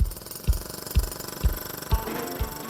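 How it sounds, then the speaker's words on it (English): A breaker hammers holes into concrete in a backyard renovation, delivering six heavy, evenly spaced blows about half a second apart, loud and close with a rattling tail after each strike. "Chris is on hand with his breaker to drill yet more holes into the concrete."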